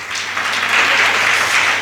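Audience at a Jain monk's religious discourse in Jabalpur breaks into loud, dense clapping that holds steady and fills the whole stretch, with no speech over it.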